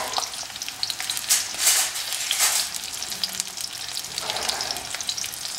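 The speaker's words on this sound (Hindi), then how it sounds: "प्याज के साथ में ही शिमला मिर्च डाल देंगे" Capsicum tossed in with onions frying in a pan for chilli chicken, a continuous moderate sizzle with a few louder bursts of crackle as the vegetables are stirred, close by.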